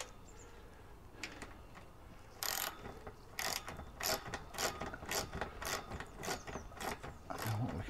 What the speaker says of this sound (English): Now, I need an Allen key to do that, don't I? Right, let's do this up.